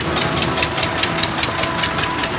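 Tractor engines run steadily in a large farmers' protest convoy heading toward Delhi, producing a loud, continuous rumble with a rapid rhythmic knock throughout.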